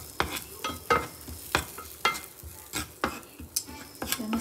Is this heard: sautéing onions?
yes